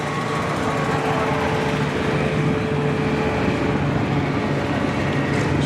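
Race car engine at the Bash for Cash race, a continuous loud broadband roar that holds steady throughout with no talking over it.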